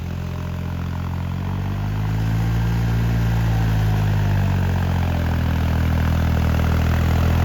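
A New Holland 3600 tractor engine runs in a wet field, a loud, close, steady drone whose low pitch swells and eases as the engine is worked, with no talk over it.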